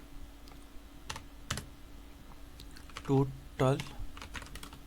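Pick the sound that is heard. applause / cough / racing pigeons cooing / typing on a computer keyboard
typing on a computer keyboard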